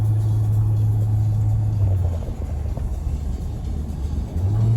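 A Brabus car's engine rumbles deep and steady while driving, a loud low drone that dips briefly midway and then swells again.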